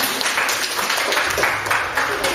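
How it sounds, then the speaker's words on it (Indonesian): Applause from a small workshop audience of teachers, a dense, steady patter of clapping filling the short stretch at moderate loudness, with some voices mixed in. "boleh tepuk tangan"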